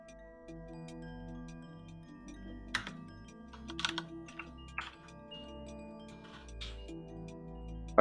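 Keys clicking on a mechanical keyboard, sparse taps that bunch into short bursts of clacks against a quiet background with a low humming tone.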